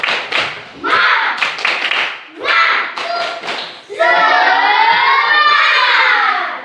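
A fourth-grade Indonesian class performs the tepuk semangat clapping chant: bursts of rhythmic group clapping, then many children's voices shouting together loudly and close.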